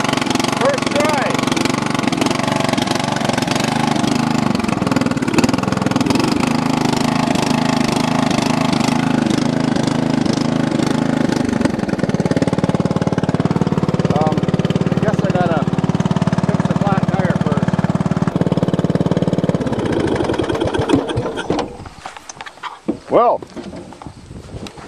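A Briggs & Stratton engine on a Husqvarna lawn tractor runs after sitting for years, a loud, steady, throbbing idle with rising and falling revs before cutting out near the end, with voices talking over it.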